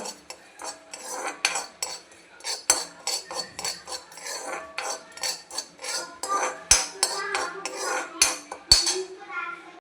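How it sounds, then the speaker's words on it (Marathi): Poppy seeds are dry-roasted in a pan over a low flame: a spatula scrapes and taps the metal in quick, close, rhythmic strokes, with occasional sharper clinks and no speech. "थोडीशी खसखस मी मंद आचेवर भाजून घेते."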